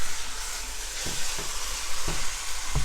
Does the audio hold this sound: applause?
no